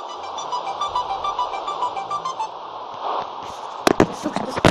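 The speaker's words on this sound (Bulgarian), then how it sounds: "Звъни един телефон в момента." A phone ringtone plays in a repeating melodic pattern, moderately loud and close, over faint game background sounds, with a few sharp clicks near the end.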